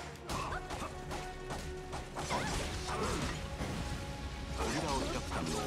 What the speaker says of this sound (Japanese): ここで 金属の落ちる音がした。